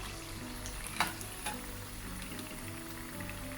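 Chicken rolls deep frying in hot oil until crisp and dark brown, a faint, even sizzle running steadily throughout with a couple of small pops.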